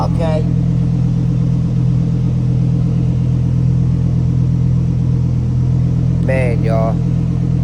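A wide-body Lamborghini Huracan Evo idles loudly after a cold start, a steady deep engine drone heard close up throughout, with brief high tonal chirps near the start and end.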